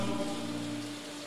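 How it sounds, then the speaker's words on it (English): Rain falls during an evening songs and praise night service, making a steady, moderate hiss over a faint electrical hum. "it is raining"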